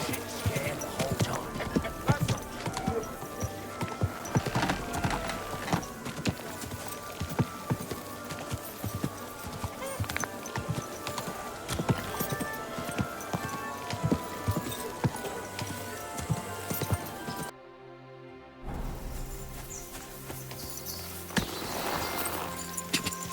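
Horse hooves clip-clop in a steady rhythmic gait in Kingdom Come: Deliverance 2, mixed with rain, briefly cutting out near the end before resuming with the ambience; a voice speaks at moments.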